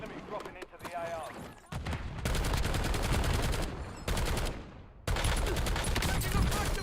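Bursts of automatic gunfire from a shooter video game crackle in rapid strings, some sounding muffled, then loud sustained volleys with short gaps between them.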